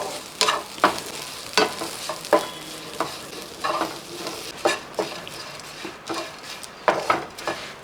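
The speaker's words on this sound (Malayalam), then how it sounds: "ഇത് ഈ പാൻ്റെ അകത്തിട്ടൊന്ന് വറുത്തെടുക്കാം" Dried shrimp being dry-roasted and stirred in a pan until crisp, for a crushed shrimp and chilli side dish: repeated loud scraping and stirring strokes in an uneven rhythm over a light background crackle.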